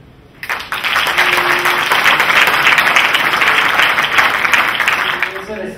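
After a short quiet start, an audience at the Premio Convictus awards breaks into loud, sustained applause for a cancer researcher, a close, even roar of clapping that holds steady to the end.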